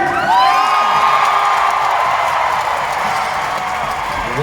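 A concert crowd cheers and applauds loudly for a performer being introduced, a sustained wall of shouting, whooping voices and clapping that holds steady from start to finish.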